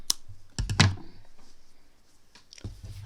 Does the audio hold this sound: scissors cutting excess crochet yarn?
yes